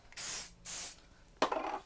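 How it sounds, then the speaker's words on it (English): Lens cleaning spray misted onto glasses lenses in an optician's shop: two quick hissing sprays followed by a third, brief and close in a quiet room. "Clean the lenses with a nice spray that we use in the shop."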